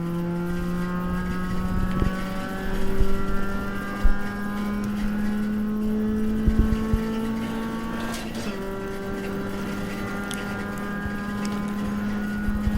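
A race car engine in the iRacing sim at Mid-Ohio in an ISRA STC race, a loud, sustained droning tone that rises gradually, dips sharply for a gear change, then climbs again, with no talk.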